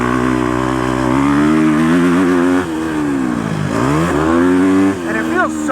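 The engine of a Husqvarna FC250 motorcycle drones loud and close while it is ridden, its pitch rising and falling as the rider rolls the throttle on and off. A rider's voice is audible over it.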